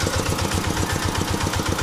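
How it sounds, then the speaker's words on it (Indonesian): A diesel engine on a homemade rail lorry, fitted with a car transmission, idles with a steady, rapid low thumping rhythm, close and continuous with no talk. "Pakai mesin diesel dengan transmisinya pakai transmisi mobil."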